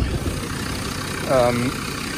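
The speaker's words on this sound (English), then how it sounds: "let me open the bonnet, let me show you the engine" A Land Rover Discovery diesel with the bonnet open, decatted and with the EGR blanked, idles in a steady low drone while someone talks over it.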